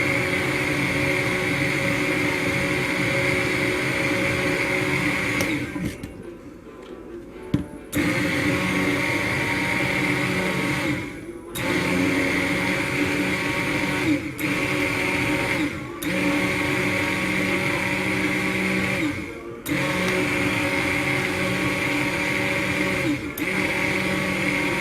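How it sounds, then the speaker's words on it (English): A stick blender pulses through a batch of homemade liquid soap for shower gel, its close motor whine running in long bursts broken by several brief pauses and dips. "So I'm going to start stick blending."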